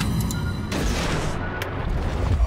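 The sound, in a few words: torpedoes launched from a warship in World of Warships video game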